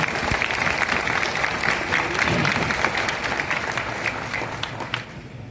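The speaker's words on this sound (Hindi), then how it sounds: "जोरदार ताली बजाइए" A crowd at a state-level meeting in a hall claps loudly and steadily for several seconds, a dense, sustained round of applause that fades slightly at the end.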